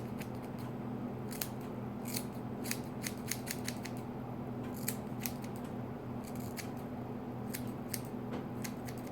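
Scissors cutting hair during a DIY layered haircut, crisp close snips in quick irregular clusters over a faint steady background hum, no speech.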